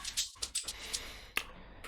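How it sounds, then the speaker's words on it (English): A shaker in an afro-house track plays a few soft, crisp hissing strokes in an uneven rhythm, quiet and dry. "Yeah, it's another shaker."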